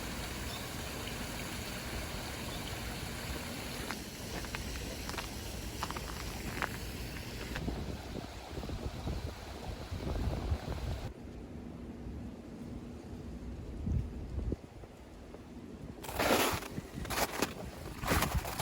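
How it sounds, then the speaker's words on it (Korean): Stream water trickles and rushes through winter ice along a forest valley trail on Gwanaksan in Seoul, a steady broadband flow with a few crunchy louder bursts near the end. "얼음을 비집고 흐르는 물소리를 들으며 산책할 수 있어요"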